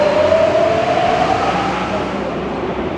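A modern Paris Metro train pulls into the station with a steady rumble and a rising whine that fades, all fairly loud and close on a station platform.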